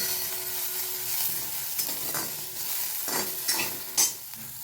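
Chopped onion sautéing in a pan for an oats recipe, a steady soft sizzle with a few sharper scrapes and stirring clicks of a spoon against the pan, close and alone with no voices.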